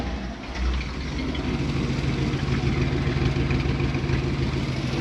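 A 1934 three-window coupe's freshly cleaned engine settles into a steady idle just after starting, a continuous low rumble with a brief dip near the start, close and alone.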